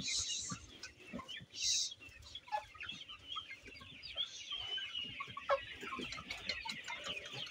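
Sonali chickens cluck and squawk in a rural Bangladeshi yard, a scattered run of soft clucks with a couple of sharper calls near the start, moderately close but fairly quiet.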